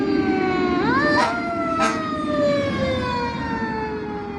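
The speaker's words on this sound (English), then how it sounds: "As the siren go on, because I know that's the truth." A wailing siren rises and falls in smooth sweeping tones, loud and close, holding steady before slowly trailing off, with no talking over it.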